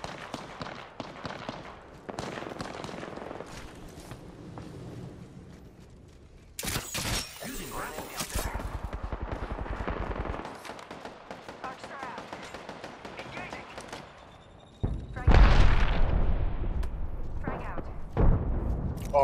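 Apex Legends combat with bursts of automatic gunfire and sharp impacts, a grenade-like blast and heavy firing erupting near the end, interleaved with quieter stretches and a player's voice talking over the action.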